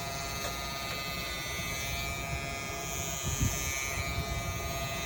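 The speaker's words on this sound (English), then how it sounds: "I'm taking a number 4 with my little shear, with my little clipper, and taking this in close, right up to that part line." An electric hair clipper with a number 4 guard buzzes steadily while trimming a man's short hair close up to the part line, a constant near hum with slight variations as it moves.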